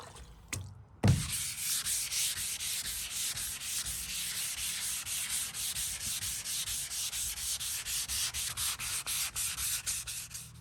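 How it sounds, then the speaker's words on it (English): Wet sanding of a Chevrolet Caprice's bodywork with a narrow Durablock sanding block, a steady rhythmic scrubbing rasp of strokes after a brief bump at the start, close and continuous with no talk. "grab my skinny Durablock here, and I'm going to just sand it just the same fashion as if I was long blocking it"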